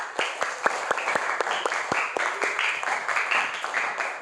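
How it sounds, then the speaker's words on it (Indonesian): Elementary school classroom applause, with pupils clapping in a quick, uneven patter of sharp individual claps, moderately close and steady, with faint background chatter. "Tepuk tangan dulu untuk kita semuanya."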